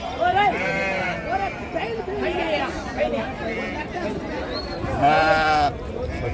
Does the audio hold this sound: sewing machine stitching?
no